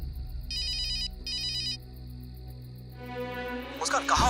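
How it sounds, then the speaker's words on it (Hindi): A telephone ringtone sounds in two bursts of electronic trilling, loud and close, over a steady low background hum before other sounds take over. "उनका फोन आ गया"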